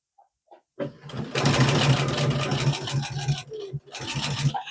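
A sewing machine stitches down the leg seam of Christmas pyjamas. After a brief quiet start, a close, steady motor whir runs continuously with a rhythmic needle chatter, dips briefly near the end, then resumes. No one speaks.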